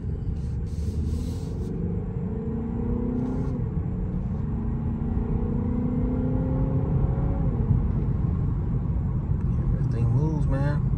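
A 2024 Honda Accord Hybrid Touring in sport mode pulls away with a rising, shifting engine rumble and road noise heard from inside the cabin, and bits of talk come through.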